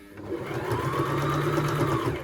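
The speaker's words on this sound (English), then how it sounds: "I'm going to sew the whole way around" A sewing machine hums steadily through a skirt seam at a half-inch allowance, a close, even motor whir lasting the whole stretch without speech.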